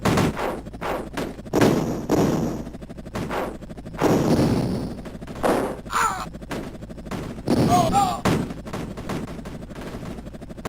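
Cannon Soccer on the Amiga fires off rapid bursts of digitized gunfire and explosions, sharp repeated cracks separated by short gaps, with small electronic blips near the end.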